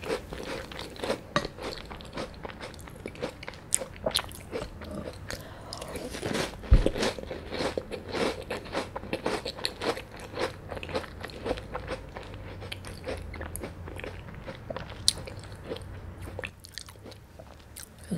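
Ace coffee cookies crunched close up alongside coffee milk, a steady run of crisp, dry bites and chewing that crackle throughout with no talking.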